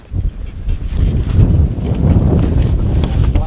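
Strong wind blasts across the microphone outdoors at an air rifle shooting range, a loud, continuous rumbling buffet that swells and holds steady after a brief quieter start.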